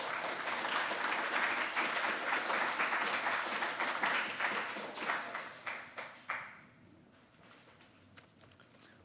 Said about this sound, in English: Let's give Greg one more round of applause.